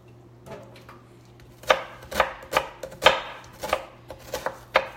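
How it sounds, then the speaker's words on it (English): Knife chopping a quarter of an onion on a cutting board for veggie omelets, with a steady series of sharp, close knocks that speed up into a quick rhythm, heard alone without speech. "got a quarter of an onion chopped up"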